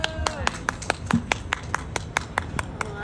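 Hands clap in a quick, steady rhythm at the close of a women's entrepreneur panel discussion, sharp and close, with voices talking underneath throughout.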